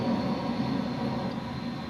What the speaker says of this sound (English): we've got another locomotive coming this way